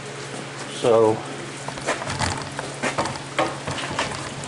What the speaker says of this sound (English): everything's wet out there and it's raining.